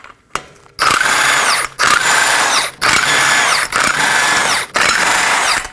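An impact tool removes 21mm wheel lug nuts on a 2020s Toyota Corolla, buzzing loudly in five close bursts separated by short pauses, after a faint click at the start.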